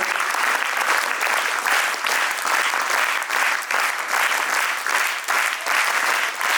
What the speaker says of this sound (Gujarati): 3 તાળીઓથી આપણે અભિવાદન કરીએ